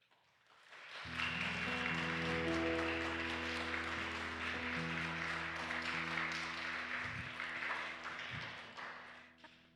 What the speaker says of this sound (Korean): 저희가 박수로 환영해 드리도록 하겠습니다.